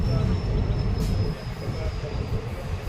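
Inside a nearly empty train carriage on a Silchar route, a steady rumble of wheels and rolling noise runs throughout, with a faint high whine, and a voice talks over it.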